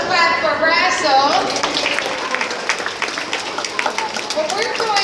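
An audience at a seal feeding show claps for a seal named Razzle, a burst of scattered applause following a brief vocal cue, fairly close and moderately loud.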